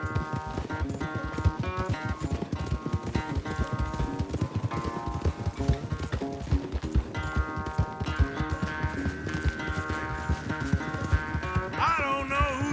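Horses galloping hard during a race in Red Dead Redemption 2, a steady rapid drumming of hooves close by under an ongoing music score, with no talk.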